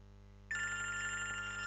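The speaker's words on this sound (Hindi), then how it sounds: "जरा प्रसन्न का फोन आता है" A telephone starts ringing abruptly partway through, a steady electronic ring tone that holds loud and unbroken over a low constant hum, with no talking.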